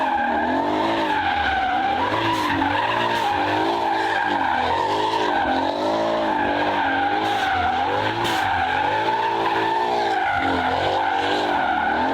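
A repaired 2019 Mercedes C63 AMG running a short test, its engine roaring steadily while the tyres skid and squeal loudly and continuously, close by throughout.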